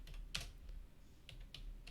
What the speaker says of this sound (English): So you type pip, right,